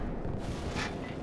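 A cannon shot and explosion in Call of Duty 4, heard as a single deep, rumbling blast with a rolling low roar, moderately loud and heard alone without talk.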